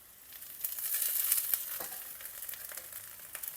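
Onions frying in a pan on a home stove make a soft, continuous sizzle with scattered pops, fairly faint and without voices.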